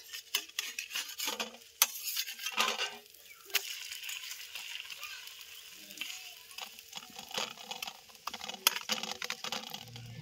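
A fried egg being flipped in a pan that has been heated by the sun, with soft scraping, tapping and light stirring noises close by, quiet and irregular, alongside faint outdoor background.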